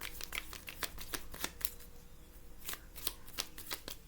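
A deck of cards is riffled and shuffled in quick bursts of crisp, papery flutter and snapping, repeating close up and alone with no voices.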